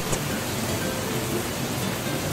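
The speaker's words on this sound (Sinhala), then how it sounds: "ඉතින් මෙහෙට නම් මාර විදියට වහිනවා" Heavy rain falls outside, a steady, loud broadband hiss with no breaks and a faint low rumble underneath.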